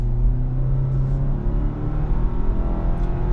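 A 2023 Hyundai Tucson Limited AWD accelerates, its engine a loud, close, droning rumble with a steady tonal whine, heard from inside the cabin without talk.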